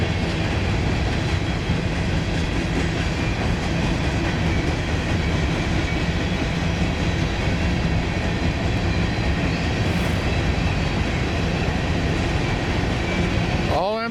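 Freight train with hopper cars rolling past at close range, a loud continuous rumble and rattle of wagons lasting throughout, ending as the last car goes by.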